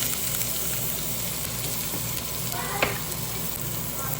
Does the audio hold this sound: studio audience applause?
no